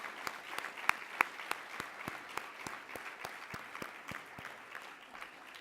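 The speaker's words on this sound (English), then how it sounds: "Big round of applause." Audience at a healthcare conference in the Cayman Islands applauds, a steady dense patter of clapping with a few sharper, louder claps standing out, even and sustained throughout.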